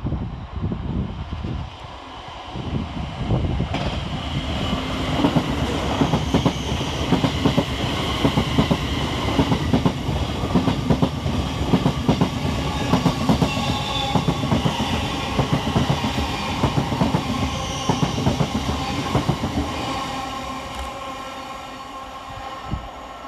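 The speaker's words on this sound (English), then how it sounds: "first of the Thameslink stock diverts now is 700136, working 9J17 from Peterborough to Horsham." Thameslink Class 700 electric multiple unit 700136 passing Bowes Park station on a diversion, a close, loud, sustained rumble with rhythmic wheel clatter over the rail joints, fading slightly at the end, no talk.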